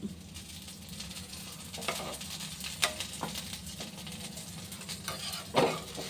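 Fish sambar bubbles steadily in a pot on the stove, a soft continuous simmer with a few sharp utensil clinks and stirring scrapes near and at moderate volume.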